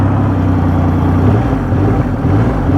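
A Triumph Rocket 3 Storm motorcycle engine revs in neutral on its stand, a steady, low drone at an even idle-like pitch with a slight rise partway through, loud and close with no voices.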